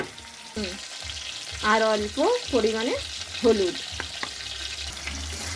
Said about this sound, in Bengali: এই আলুগুলোকে এবার আমি একটু লাল করে ভেজে নেব